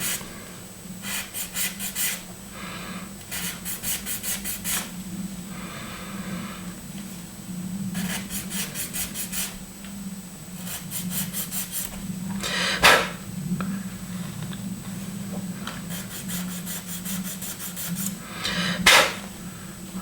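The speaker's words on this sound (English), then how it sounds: "I just need to file that" A small file rasps a plastic headrest part for a 1/24 scale Airfix Spitfire model flat, in repeated close bursts of short rhythmic strokes separated by pauses.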